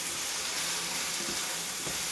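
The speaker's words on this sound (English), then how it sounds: "So I'm going to add some capers." Capers sizzling in a pan of softened vegetables for an Alfredo sauce with vegetables, a steady, fairly faint hiss of frying throughout with a couple of soft stirring bumps and no talk.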